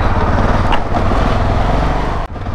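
A Yamaha XTX 660 supermoto motorcycle is ridden with a steady, loud single-cylinder engine drone and wind noise, with a brief dip near the end.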